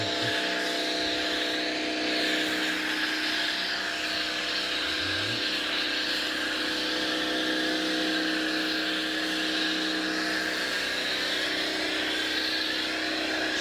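A car is sprayed with shampoo foam, making a continuous loud, even hiss with a steady mechanical hum from the pressure sprayer, with no breaks for the whole stretch.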